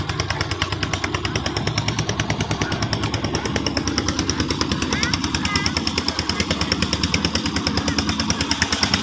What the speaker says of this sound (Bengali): আসে দেখেন এই যে একটা নৌকা যেতেছে